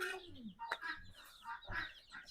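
Chicks cluck close by, a run of short, busy calls repeating throughout.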